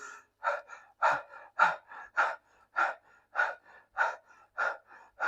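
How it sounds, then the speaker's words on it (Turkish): Rapid, shortened breaths show a stressed state. About ten quick, close gasping inhales and exhales come in a steady rhythm with nothing else under them. "Farkındaysanız nefes alıp veriş hemen kısalmaya başladı."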